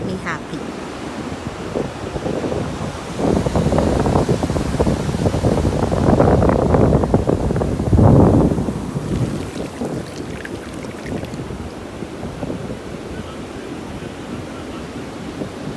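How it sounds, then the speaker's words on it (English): Ocean surf rolling onto the sand at Daytona Beach, Florida, a steady broadband wash with louder swelling breaks around the middle, heard alone without talk. "The sound of the wave is so therapeutic"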